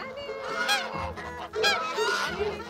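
Geese from a flock being herded outdoors honk repeatedly in overlapping, fairly loud calls, several birds close by with no talk.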